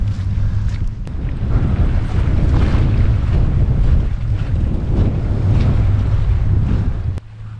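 Strong wind batters the microphone on a boat ride among the Yaeyama Islands in the rainy season, a loud, constant low roar and rumble with the hiss of water beneath, no talking.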